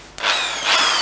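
A Bosch GSB 570 impact drill runs in hammer mode, starting abruptly with a loud, sustained buzzing whir and a slight surge in intensity partway through its short run.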